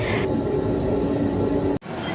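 Inside a moving MRT metro train, a loud, steady rumble and roar fills the car, then cuts off abruptly for a moment near the end before the noise resumes more softly.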